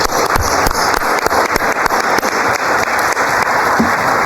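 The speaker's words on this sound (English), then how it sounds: "Can we give ourselves a round of applause," Round of applause from the audience at a 100th birthday celebration for a community college, loud and close, with dense steady clapping and a few sharp individual claps standing out throughout.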